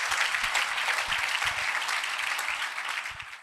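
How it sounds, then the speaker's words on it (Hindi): A church congregation at a sermon breaks into loud, sustained applause, a dense wash of clapping that tapers off at the end. "जोर से ताली बजाएं खुदा यीशु मसीह और जोर से।"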